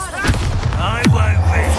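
Confringo blasting spell cast in the video game Hogwarts Legacy, a short booming explosive burst with a low thud, loud and close, overlapping with voices.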